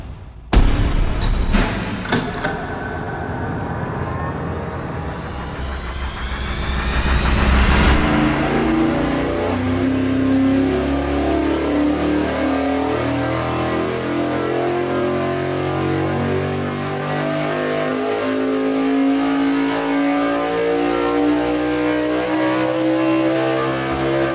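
A naturally aspirated V8 engine on a dyno revs hard from a low rumble to 8,000 RPM, the loud, rising scream sweeping up for several seconds before dropping back to a rough, busy idle.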